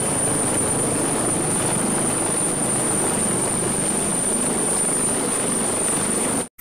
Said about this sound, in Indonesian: ada helikopter polisi.